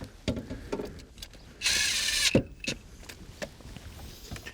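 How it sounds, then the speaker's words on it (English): A ratchet fastens a 10 mm bolt on a 2008 Fiat 500, giving close, quick clicking bursts with a louder whirring spin in the middle, moderately loud in a quiet space. "Let's fasten it back with its nut."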